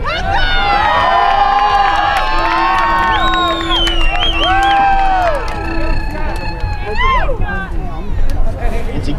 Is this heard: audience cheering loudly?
yes